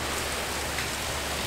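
Rain pours down in Rameshwaram as a dense, even rush of noise, loud and unbroken through the short stretch, with no voices.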